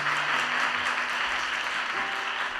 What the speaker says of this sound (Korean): 네, 박수로 환영할까요?